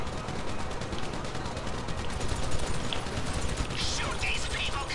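Gunfire from Grand Theft Auto, a dense, steady barrage of shots that holds at one loud level throughout, with voices underneath.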